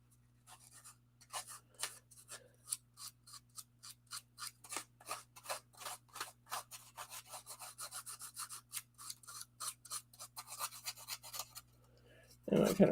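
Scissors snip repeatedly through card stock for a crafting pocket, a brisk run of close, crisp cuts at an irregular rhythm with no talking.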